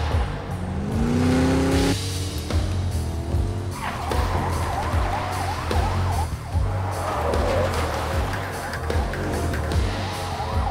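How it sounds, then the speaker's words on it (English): Police sirens wailing in the video game Enter The Matrix, rising and falling tones over a loud engine rumble and vehicle noise, heard without speech. "Just follow the sirens."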